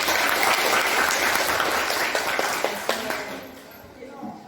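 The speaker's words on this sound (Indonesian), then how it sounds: "Tepuk tangan untuk 12." A classroom group claps together in a school setting, dense applause that thins into a few scattered, fading claps toward the end.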